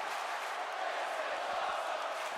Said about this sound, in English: crowd enjoying it